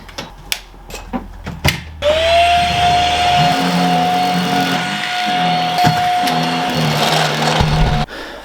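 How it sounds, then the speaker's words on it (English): A vacuum cleaner hoovering a floor at home, switching on with a rising whine and running steadily and loudly close by for several seconds before cutting off, with a few clunks beforehand. "I'm gonna hoover up"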